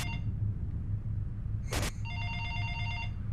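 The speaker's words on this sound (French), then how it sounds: "par-dessus l'image des ordinateurs, nous avons le son du téléphone" A telephone rings in a film excerpt, with a sharp electronic trill sounding over a steady low hum and background hiss. A brief burst of noise cuts through midway, and there is no speech.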